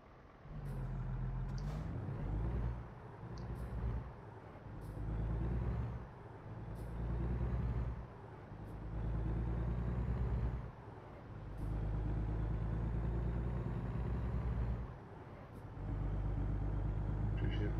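A truck in American Truck Simulator, its engine droning steadily with low rumbling tones that repeatedly rise and dip as it accelerates through the gears, with sharp hissing bursts recurring over the drone.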